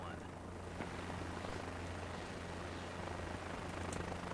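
A helicopter in Flight Simulator 2024 lifts off from a helipad, its rotor and engine droning steadily with a low hum under a faint hiss, while a voice talks over it.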